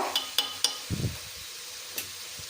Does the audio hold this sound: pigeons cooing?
no